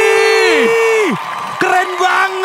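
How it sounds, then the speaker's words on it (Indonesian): Live audience at a televised Indonesian dance competition cheers and whoops loudly after a performance, with a few high sustained shouts standing out over a continuous crowd roar and applause. "Tepuk tangan sekali lagi untuk Sakti Manca dari Bali"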